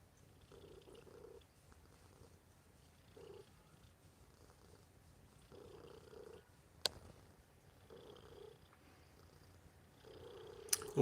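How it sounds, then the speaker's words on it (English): Soft, low cat purring comes in repeated short bursts at close range, with brief rustles and a couple of sharp clicks between them. "Hopefully y'all can hear a little bit of Rosemary's purring."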